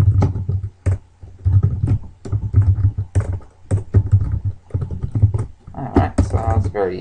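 Quick bursts of computer keyboard typing, uneven clusters of clacking keys, mixed with a person talking close by.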